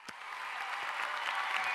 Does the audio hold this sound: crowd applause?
yes